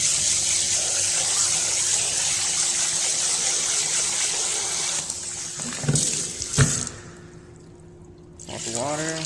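Tap water gushes steadily into a sink while sushi rice is rinsed, then the flow is cut and water sloshes and pours out, followed by a brief rising trickle as the tap restarts.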